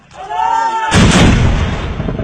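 An army artillery piece fires at a border position, a single huge, close blast that booms and rolls on with a long, heavy rumble, preceded by a faint shouted command.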